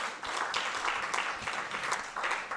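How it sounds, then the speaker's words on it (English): Loud applause for two academic speakers at a transformation conference, a full crowd of hands clapping steadily and close, with the density surging and dipping in waves. "May we give them a very loud round of applause."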